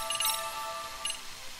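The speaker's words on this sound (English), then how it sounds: "I got a text message" A phone's text message notification chimes twice in short tonal bursts, rising above the steady background of a Lost Judgment boss fight during gameplay.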